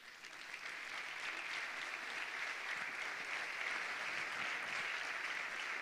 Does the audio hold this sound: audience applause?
yes